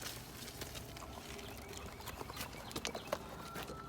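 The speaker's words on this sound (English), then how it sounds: "horses are walking on either side of me" Horses walk close on both sides, their hooves clip-clopping in an uneven run of soft knocks against quiet outdoor background with faint birdsong.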